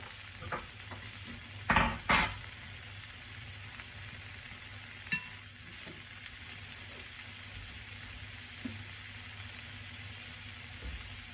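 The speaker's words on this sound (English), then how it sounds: "Just brown your prawns on each side." Prawns fry in a pan under a steady low sizzle with a faint background hum. A couple of sharp clatters come early and a few light taps follow later.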